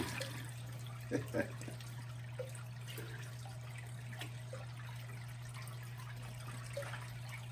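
Aquarium water being drawn out of a 55-gallon fish tank, with soft trickling and splashing over a steady low hum and a few brief knocks.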